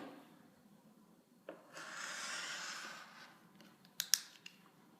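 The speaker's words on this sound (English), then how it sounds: "And we're just going to quickly cut off this extra." A rotary cutter slicing through quilt fabric in a quilting class, a soft close rasping swipe lasting about two seconds, followed by a few light taps and handling clicks in a quiet room.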